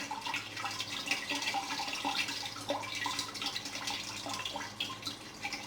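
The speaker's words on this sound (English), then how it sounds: "Take the snuffer bottle and squirt water down along that joint around the edge there to push the material out again." A squeeze bottle squirts water along the edge joint of a Blue Bowl gold concentrator, pushing black sand and material free; steady close splashing and trickling runs throughout with small drips, no talk.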